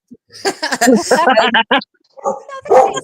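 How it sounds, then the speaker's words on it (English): A dog barks and yips in several quick bursts close by, mixed with a person talking during a call, then another short round of barking after a brief pause. "the dog started off"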